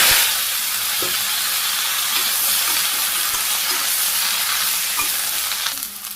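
Cumin, ginger and vegetables fry in hot oil on a Bangladeshi home stove, producing a loud, dense, continuous sizzle with occasional stirring knocks.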